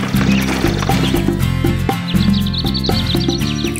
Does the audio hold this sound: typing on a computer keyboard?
no